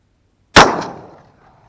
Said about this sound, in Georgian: ნახოთ აბა რას გვიჩვენებს ეს გასროლა